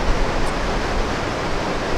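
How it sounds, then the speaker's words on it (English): Waterfall on the Little Patuxent River in Maryland, a steady, dense rush of falling water close by that holds an even roar throughout with no voices. "I'm going to have to focus in on this first set of waterfalls here, and specifically the one that's just right in front of my camera"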